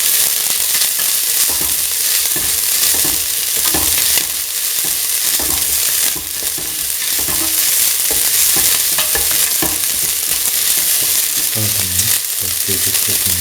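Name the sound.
stirring grated coconut and green chili in a frying pan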